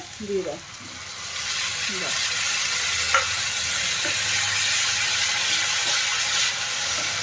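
A spice paste of tomato, cumin, green chili and ginger sizzles steadily in a hot pan, a dense hiss lasting several seconds, with a few stirring scrapes early on and a voice speaking over the start.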